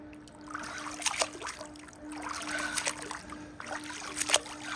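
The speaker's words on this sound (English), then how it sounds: "Pump is cavitating" A Hayward pool pump cavitating with excess air in the system: faint gurgling, trickling water with irregular splashy bursts over a steady low hum, no talking.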